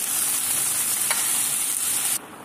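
Fried shrimp go into curry sizzling in a pan, a steady, close hiss of frying that cuts off sharply near the end, with no talking.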